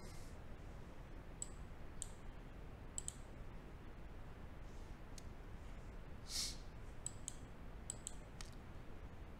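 Computer mouse clicking a handful of times, sharp faint clicks spaced irregularly over a quiet hiss, close by with no speech.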